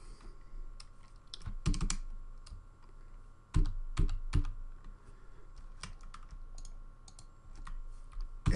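Computer keyboard keys pressed while modeling in The Foundry MODO, scattered close clicks and a few quick double taps over a quiet steady hum.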